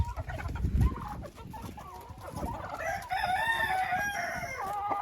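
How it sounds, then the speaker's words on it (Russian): Chickens and roosters, hens and cockerels including a Silkie-Marans cross, are kept together in a coop, with cabbages tossed in. A low rustling thump comes early, then overlapping crows and clucks rise nearby and carry on steadily to the end. "Принесла несколько кочанов капусты, чтобы успокоить кур, особенно петухов."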